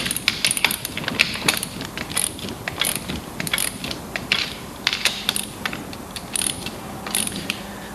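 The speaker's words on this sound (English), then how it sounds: "Also, the torque wrench is bottomed out." Torque wrench ratchet clicking as a stainless steel PLP splice closure is tightened until it bottoms out, metal to metal; a steady run of sharp, close mechanical clicks and ratcheting over faint background noise.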